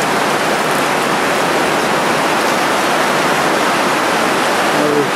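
Heavy rain pours steadily at a bear observatory, a dense, loud, unbroken hiss of falling water with no talk over it.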